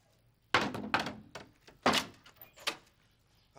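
A door is banged repeatedly, with several heavy, uneven thumps close by, separated by short pauses and no talking.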